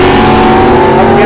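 A Buick GS Stage 1 drag race car at a Saturday drag racing event in Great Bend revs loud and close, a steady droning engine roar with no pauses.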